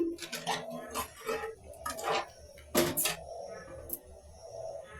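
A spoon stirs sugar and water in a pot on a gas stove, a series of close scraping and clinking strokes against metal with irregular rhythm and soft sloshing.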